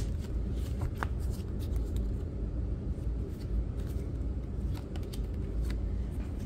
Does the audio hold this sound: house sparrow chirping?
no